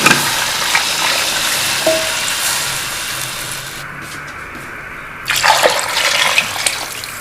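Water pours into a cooking pot of fried masala for beef paya (trotter curry), about a jug and a half, giving a steady rushing splash that swells louder again near the end.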